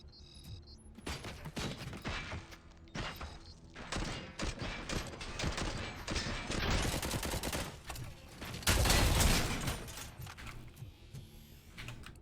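Sustained gunfire in the Robocop: Rogue City video game, dense bursts of automatic shots and impacts across the whole stretch, loud and close, swelling to a heavier barrage near the end.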